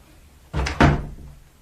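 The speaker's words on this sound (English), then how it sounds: "Shut the door, Harriet." An indoor door is pushed shut in a quiet room: a soft push, then a single solid thud with a brief rattle that fades quickly, heard close and alone.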